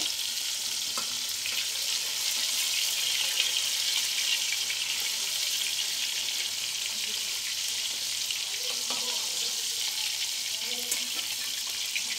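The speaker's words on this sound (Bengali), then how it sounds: "যেটা আমার ভাজাটা হয়ে এসছে, এবার আমি নামিয়ে নেব।" Lote fish cutlets fry in oil with a soft, even sizzle that runs steadily throughout, a quiet continuous hiss with a few faint clinks.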